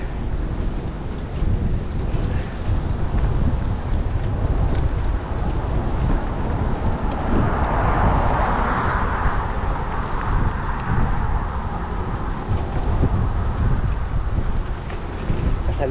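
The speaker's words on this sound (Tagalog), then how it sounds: "Kasi medyo malakas ang hangin." Strong coastal headwind buffeting the microphone while cycling a side street from Seal Beach toward Long Beach, a loud, continuous roaring rumble throughout with no voices.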